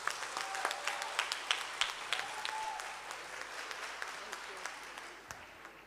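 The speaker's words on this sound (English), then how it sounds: "Let's give a big hand of applause." Applause from an audience at a Workers Day community meeting, steady clapping at moderate distance with sharp individual claps standing out, slowly thinning toward the end.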